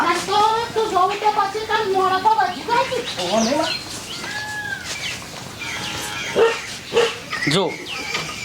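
A village dog barks in a few sharp bursts amid loud, lively talk, the barks coming through mainly in the second half between voices.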